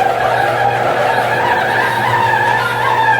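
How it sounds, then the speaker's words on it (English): A noisy garage door opening gives a steady, loud grinding and squealing rumble, continuous throughout without pause or speech. "So does your garage door sound like this?"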